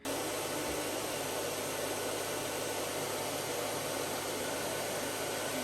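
A hooded hair dryer blows a steady whooshing hiss that does not change for several seconds. The sound is fairly quiet and even, and no one speaks.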